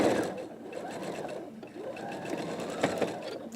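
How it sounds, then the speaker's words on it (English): Sewing machine stitching quilt corner blocks, a close, continuous motor whir with the rapid needle chatter running steadily throughout, no voices. "Oh, I sewed over a pin."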